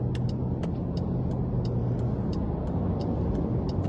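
A car drives through traffic behind a box truck, giving a steady, even road and engine rumble with faint clicks throughout and no voices.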